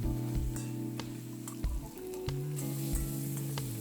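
Mint leaves and spices sizzle and fry steadily in a hot pan for mushroom rice, with occasional scraping and stirring clatters over a constant crackle.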